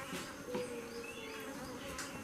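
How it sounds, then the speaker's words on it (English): A faint, steady buzzing of honey bees hums close by, with individual insects droning in and out. "Mad bees, mad honey bees."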